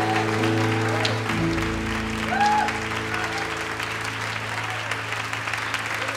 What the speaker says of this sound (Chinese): 好不好跟我一起拍掌来欢迎